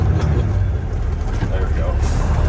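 A 1985 Peterbilt 362 cabover truck running while shifting gears, a loud low diesel rumble heard from inside the cab, steady with a slight dip mid-shift, someone talking over it.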